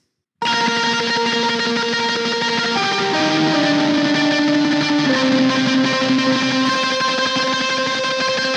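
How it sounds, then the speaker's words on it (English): A bright, sustained Yamaha DX7 synthesizer lead plays a slow melody over a dense, distorted rock/metal band backdrop, loud and continuous throughout. "I used a very cute patch from the DX7 to highlight the melody"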